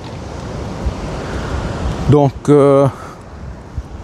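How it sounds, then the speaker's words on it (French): Wind blowing outdoors during a walk, a steady broadband rush with gusty swells throughout, loud and close to the microphone, with a brief stretch of talk partway through. "Là il y a il y a aussi là beaucoup de vent en fait finalement."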